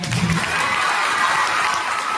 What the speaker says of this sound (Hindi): सर के लिए एक बार जोरदार ताली बजाइए